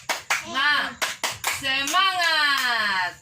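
A group, led by a voice, performs a rhythmic cheer clap in a classroom-style session: a few sharp claps between spoken and sung chant phrases, the clapping loud and close and interleaved with the voices.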